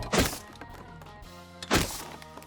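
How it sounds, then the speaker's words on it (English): Two hollow wooden thunks about a second and a half apart as a tree starts to fall in the video game Rust, each a short crack-like impact with a brief ringing tail, fairly quiet. "When the tree starts to fall, it makes a sound like this."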